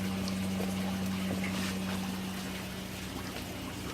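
Water from a new pump pours in a steady, constant stream, a quiet, close trickling wash over a low, even pump hum, with no talk.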